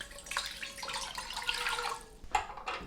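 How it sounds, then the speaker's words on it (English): Running water from a tap splashes steadily into a large pot, with a brief clink of metal near the end; no voices. "fill it with water up to 2 to 3 centimeters"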